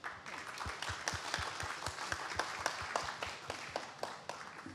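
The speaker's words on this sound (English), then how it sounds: "A huge round of applause to our motivated leaders who are making a difference." A fairly quiet audience at a leadership event gives sustained applause, with individual claps standing out in a steady, moderately dense patter.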